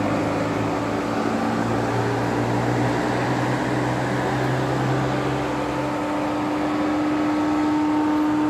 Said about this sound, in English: The engine is cooling down now because I was kind of hooning it a bit.